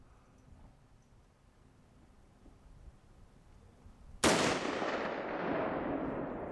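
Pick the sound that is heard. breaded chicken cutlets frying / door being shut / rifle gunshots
rifle gunshots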